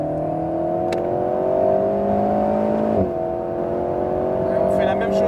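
An Alpine A110 S race car accelerates on the Le Mans circuit, a steady loud engine drone climbing slowly in pitch, with a brief dip around a gear change, heard from inside the cabin.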